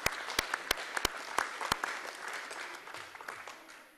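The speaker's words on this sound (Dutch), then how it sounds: "een groot applaus krijgen van iedereen die hier aanwezig is" Applause from everyone present for the three remaining child-mayor candidates, loud and sharp at first with distinct near claps, then settling into steady, fading clapping over about four seconds.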